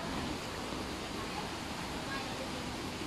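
A waterfall pours in an outdoor swimming spot as a steady, dense wash of rushing water. The roar stays even and unbroken throughout the short stretch.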